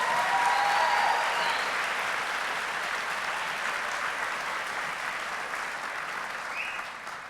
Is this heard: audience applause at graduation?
yes